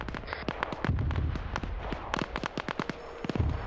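Mortar shells bursting on target in a military video game, a rapid scatter of sharp explosive cracks and thumps at varying distances, some near and loud, others fainter.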